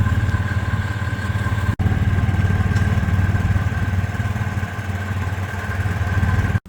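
Engines of Kawasaki vehicles on a demo track at an outdoor farm show run as a steady, fairly loud mid-pitched drone with a clattering edge, holding constant for several seconds, with a brief dropout near the start and another at the end.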